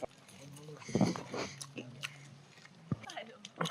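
Someone chewing a crunchy snack during a mountain trek on the Salkantay route, close wet bites and munching at an irregular rhythm, fairly quiet, with faint breathing.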